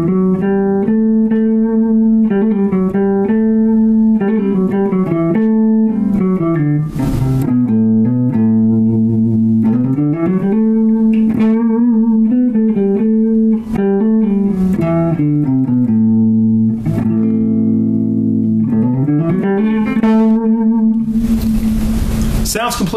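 Electric rock guitar runs through an A Dorian scale in flowing, sustained melodic phrases, notes bending and sliding between pitches, loud and close, with a short noisy burst near the end and no talking.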